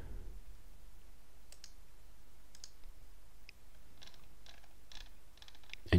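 Faint, sparse computer mouse clicks, single and in small clusters, sound close against a quiet room background.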